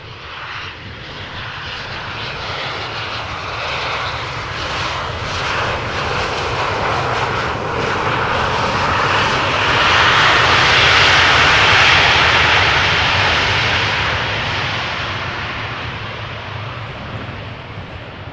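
An Embraer 190 in SkyTeam livery, arriving from Newcastle, lands at Amsterdam Schiphol, its engine roar growing close and loud to a hissing peak before easing away, with no voices.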